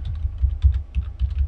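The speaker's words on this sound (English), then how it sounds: "I'm going to type in" Fingers type a domain name on a computer keyboard, producing a quick, close run of light clicking keystrokes in an uneven rhythm, with no talking.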